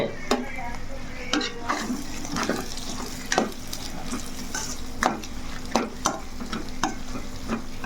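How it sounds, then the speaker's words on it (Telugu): Masala fries in a pan for spicy bitter gourd curry under a continuous close sizzle, while a spatula scrapes and taps in irregular, repeated strokes throughout. "చక్కగా వేగిపోయినాయి చూసావా"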